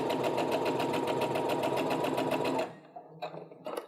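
A sewing machine stitches fabric for a split nine patch quilt block, running in a steady fast mechanical chatter for over two seconds before stopping, followed by a few faint handling clicks.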